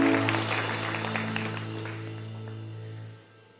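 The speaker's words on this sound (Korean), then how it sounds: "우리 승리하신 주님께 영광의 박수 올려드리겠습니다." A church congregation claps during a Sunday service at a Korean Presbyterian church in Detroit, brisk applause at the start that fades under sustained keyboard or organ chords.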